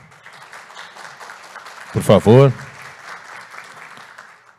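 Audience applause at an energy-efficiency conference panel welcoming the moderator, a steady light clapping bed running throughout while someone speaks briefly in the middle.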